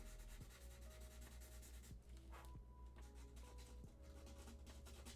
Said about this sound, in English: Using 180 grit sandpaper to get the roughness started here